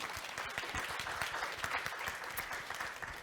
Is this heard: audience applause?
yes